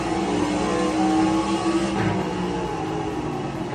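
A video game race car engine roars continuously at high revs, a steady loud droning with slight pitch shifts throughout.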